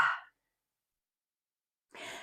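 A single audible out-breath at the end of a qigong-style relaxation exercise as raised shoulders drop, a soft close sigh following a brief breathy onset and a long quiet pause.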